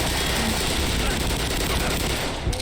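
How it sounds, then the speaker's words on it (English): A loud, dense explosion erupts in the game Black Mesa, a sustained roaring crackle that fills the whole stretch and drowns out everything else. "That was just a random freaking explosion."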